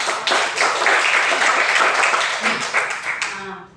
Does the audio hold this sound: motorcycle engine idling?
no